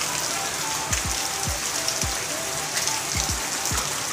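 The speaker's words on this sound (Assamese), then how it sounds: "কি সুন্দৰ দৃশ্য দেখিছে ঝৰ্ণা একদম বৈ আছে" A waterfall at Titabor in Jorhat flows in a steady, dense rush of water, with several soft low thumps nearby over the continuous wash.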